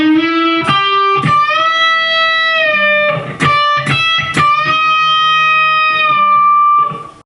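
Distorted electric guitar plays the second half of a lead lick from a song, with sustained bent notes and a few sharp picked attacks, loud and close, alone without talking.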